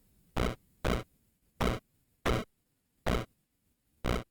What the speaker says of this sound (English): The bit noise is oftentimes one that I like.